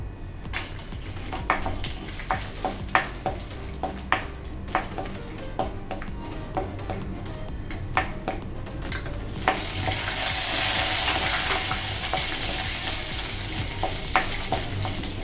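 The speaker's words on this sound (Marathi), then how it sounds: "चांगलं कमी गॅसवर भाजत राहायचं. आणि नंतर काजू आणि बदाम" Cashews and almonds dry-roasting in a pan over low gas, with a steady soft sizzle and repeated scraping taps of a spoon stirring, growing into a brighter hiss near the end.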